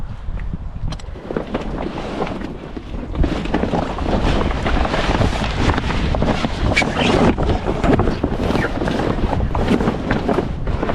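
Steady, loud wind buffets a yacht at its mooring, roaring and gusting across the microphone without pause, with faint creaks and rattles of rigging underneath.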